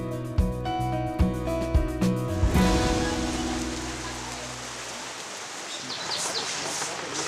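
Rain falls steadily as a broad, even hiss while villagers clean up their village. Music is heard at first, then fades, leaving the rain alone.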